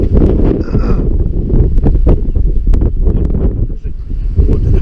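Heavy hurricane-force gusts of wind buffet the microphone in bursts during a fishing trip near a forest, with rustling and occasional sharp knocks, loud and close throughout.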